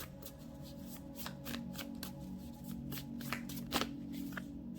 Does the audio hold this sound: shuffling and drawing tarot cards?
yes